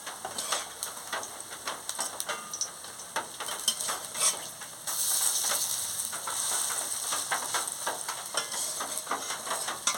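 Pumpkin flower and snake gourd fritters frying in hot oil, a steady close sizzle with bubbling crackles throughout, which grows denser partway through, with no voices.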